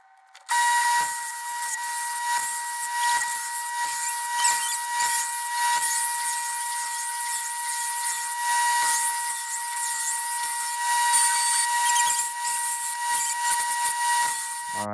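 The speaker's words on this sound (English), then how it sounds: "Now I'm gonna go and sharpen that on my belt sander." A belt sander sharpens a homemade katana blade. It runs as a loud, steady, high-pitched whine with a grinding hiss, starts abruptly and holds constant, broken by brief scraping dips as the blade presses against the belt.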